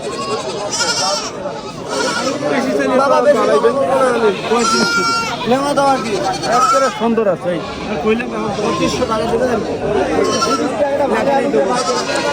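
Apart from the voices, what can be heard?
goats bleating at a market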